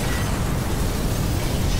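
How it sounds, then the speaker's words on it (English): Explosion in the video game Mirror's Edge Catalyst, a dense loud rumbling blast that roars continuously without any quiet gap. "Big explosion over here!"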